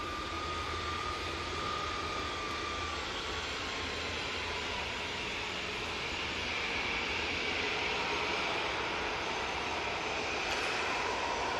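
An aircraft at Manchester Airport produces a steady, sustained jet engine roar that fills the whole stretch with a broad, even rumble and hiss, slightly swelling toward the end, with no talking.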